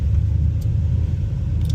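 Chevrolet Savana van with a 4.8-liter V8 rumbles steadily as it rolls slowly, a dense low engine drone with no talk over it.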